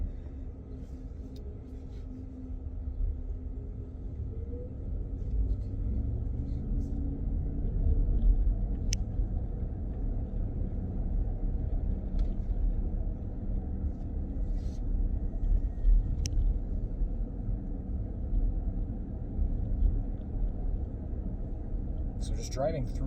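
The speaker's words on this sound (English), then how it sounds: "So just driving through the city here, it's an incredibly smooth ride." Inside a Cadillac Lyriq electric car driving through city streets, a low, steady road rumble persists throughout with no engine note, and a few faint clicks and knocks sit above it.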